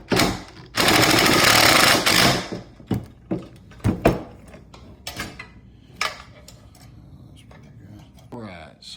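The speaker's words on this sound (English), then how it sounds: "We're about to tighten them down." Bolts and lock nuts being tightened on a motorcycle deck kit for a 2025 Harley-Davidson Road Glide, opening with a loud buzzing power-tool burst and followed by scattered metallic clicks and ratcheting taps.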